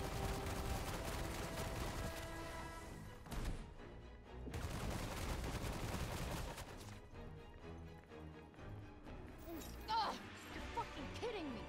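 Gunfire from a gun in the video game Forspoken, bursts of shots blended with dense game music and effects, a brief lull midway before firing resumes, with a voice talking over parts of it.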